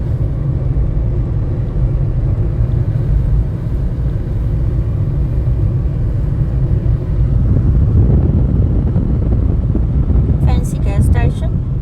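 Steady low rumble of a car engine running on the road during a drive, with wind noise over it and people talking throughout; a brief high chirping sound rises near the end.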